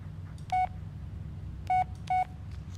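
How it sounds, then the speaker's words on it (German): Phone text-message notification beeps in the Blair Witch video game: three short, bright electronic beeps, one alone and then a close pair, sounding over a low, quiet ambient hum. "Mann, wir kriegen ganz schön viel SMS hier."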